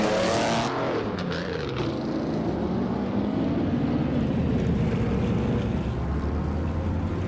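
Race car engines in a racing video game featuring a 1952 Ferrari 375 Indy: a steady, fairly distant engine drone with some shifting pitch, continuous and moderate in level, with no talking.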